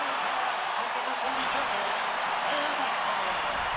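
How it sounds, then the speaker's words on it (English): Stadium crowd roaring after a BYU touchdown at a Utah vs. BYU college football game, a dense sustained cheer filling the space, steady and loud throughout with no break. "Listen to that crowd"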